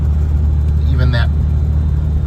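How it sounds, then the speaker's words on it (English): A 1956 Jaguar Mark VII M shifting from second to third gear while driving on twisty roads, a smooth but audible change heard as a steady low engine and road rumble with a brief mid-range shift sound inside the cabin, and someone talking over it. "2-3 shift is pretty smooth. It's audible, but it is smooth."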